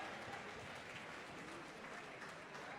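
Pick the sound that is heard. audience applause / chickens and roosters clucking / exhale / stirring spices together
audience applause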